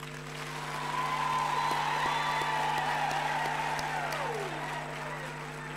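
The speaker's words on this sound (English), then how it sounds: "Can we give our graduates another huge applause" Graduation ceremony audience at a university applauding the graduates, a sustained wash of clapping that swells and holds steady, heard at a distance beneath a steady hum and faint tonal music.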